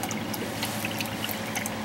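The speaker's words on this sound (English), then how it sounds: "Pond pump is down in the bottom there." A pond pump sitting at the bottom of a pail pushes water into it, its flow turned down with a dial, giving a steady, close trickling pour that runs unbroken with no talk, as part of a barrel-heater greenhouse heating setup.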